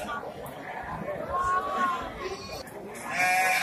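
Domer Sakub sheep, including pregnant ewes, bleat at a busy livestock market, with a few thin high cries rising over steady crowd chatter and background bustle.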